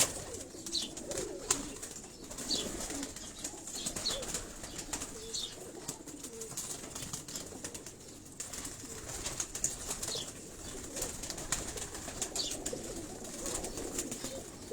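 Pigeons cooing on a rooftop loft in Karachi, a soft continuous murmur of coos with occasional wing flutters, close and steady with no talk.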